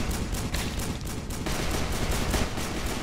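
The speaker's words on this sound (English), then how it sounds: "Chuck some grenades." Grenade explosions and gunfire in the HordeZ VR zombie shooter, a dense continuous barrage of loud blasts and shots with no pause.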